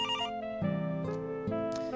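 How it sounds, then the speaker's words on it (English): A telephone rings in a short electronic ringtone burst, steady tonal pulses that are clear and close, with no voices. "Phone rings."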